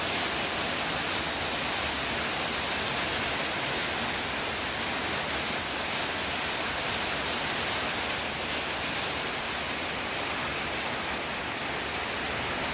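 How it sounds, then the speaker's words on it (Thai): Steady, dense rush of water pours and splashes without pause, a loud continuous roar like heavy rain cascading off a roof. "น้ำไหลตรงหลังคาแรงมาก"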